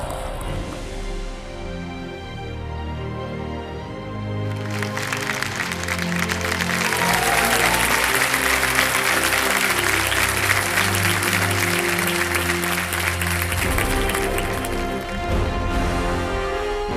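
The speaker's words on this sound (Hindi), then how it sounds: "तालियों के साथ उनका स्वागत किया जाए।" Music plays first, then loud studio-audience applause welcoming guests on the Kaun Banega Crorepati set breaks in and rolls on steadily with the music beneath it.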